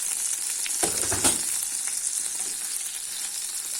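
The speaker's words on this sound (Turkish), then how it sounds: "İçerisine sarımsağımızı ekliyoruz ve kavuruyoruz" Garlic sautéing in a pan with a steady bright sizzle throughout, briefly louder with a couple of stirring scrapes near the start, for crispy garlic potato rings.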